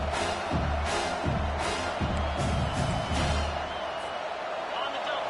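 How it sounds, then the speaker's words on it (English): Stadium crowd roar from a college football video game, a steady loud wash of cheering with a few thumps and bursts on top, running continuously under a commentator's voice. "This crowd trying to make life miserable for this offense."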